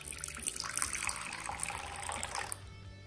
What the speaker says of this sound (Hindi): अब एक कटोरी में ठंडा पानी डालेंगे।